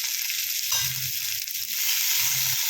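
Sliced onions frying in a pan with a little salt, giving a steady close hiss broken by a few soft low stirring thumps.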